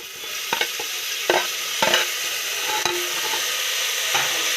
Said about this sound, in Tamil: இப்போ இதுவும் நல்லா வதங்கணும் நல்லா மிக்ஸ் பண்ணிக்கலாம்